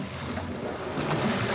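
A speedboat being lowered into rough water at night gives a steady broadband rush of engine and water noise, fairly near and continuous, with no voices.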